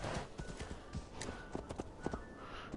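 Horse hooves clip-clop steadily in Assassin's Creed Valhalla, a brisk, close, continuous rhythm of game hoofbeats with a faint tonal game ambience underneath.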